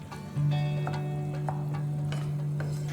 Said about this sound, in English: So now that my masala is sizzling really well